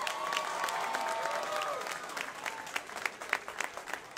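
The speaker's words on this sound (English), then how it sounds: "how about a round of applause for these two fighters" A crowd at an amateur fight night applauds the two fighters, steady clapping at first with a brief whistle or cheer over it, then thinning into scattered, sharper claps as it tapers off.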